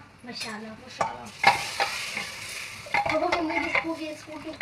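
Oil sizzles steadily as spices fry with a little garam masala for a tadka, while a spoon stirs and scrapes in a pan, with occasional clinks of metal against the pot.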